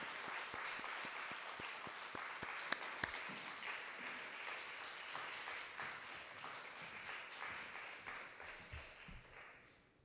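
A church congregation at a Wednesday evening service applauds to welcome the guest pastor: steady, even clapping from many hands in a large room, sustained for about ten seconds before tapering off.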